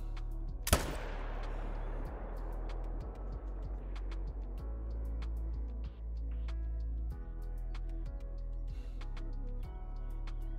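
A single hunting-rifle shot fired at a wild yak in the Call of the Wild hunting game's Sundarpatan reserve: one sharp, loud crack whose echo tails off over a second, then quiet ambient ticks and clicks with no talk.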